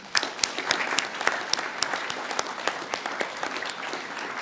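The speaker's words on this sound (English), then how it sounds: "Can we please give them a round of applause?" Full applause from students and staff at a school assembly, a dense, even patter of many hands clapping steadily throughout, with a few sharper claps near the front and no speech over it.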